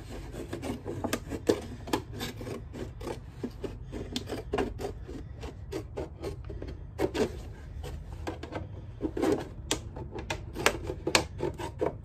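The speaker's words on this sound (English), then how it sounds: "we're going to cut around, not fully, so we're going to cut around to the back, just to about there" Scissors cut around a plastic container to make a hinged lid for winter sowing, producing repeated close crunching snips and rasping plastic scrapes in an irregular rhythm.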